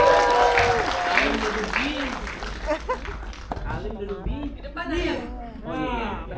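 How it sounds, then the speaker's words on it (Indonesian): A studio audience on an Indonesian television show claps briefly at first, then the applause fades under talk and light laughter from hosts and guests. "tepuk tangan buat Alim"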